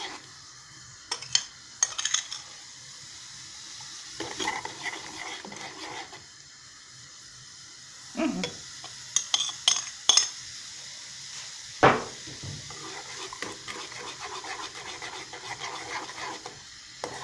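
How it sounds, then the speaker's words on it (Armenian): Semolina porridge being stirred spoonful by spoonful into boiling water in a pot: intermittent close spoon clinks and scrapes against the pot over a quiet hiss, with irregular bursts of clatter. "Հիմա մանի կաշան քիչ-քիչ լցնենք եւ խառնենք կաթսայի մեջ, այսպես քիչ-քիչ, որպեսզի գնդիկներ չառաջանա։"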